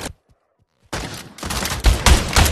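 Video game gunfire: after a near-silent start, a dense burst of loud, close shots and rapid bursts begins about a second in and continues to the end.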